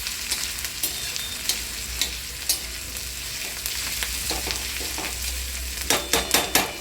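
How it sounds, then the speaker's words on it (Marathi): Onions fry on a flat pan with a continuous sizzle, broken by a series of clattering stirring scrapes that grow busier toward the end. "आपण तव्यामध्ये कांदा टाकलेला आहे, कांदा प्रथम भाजून घेणार आहोत।"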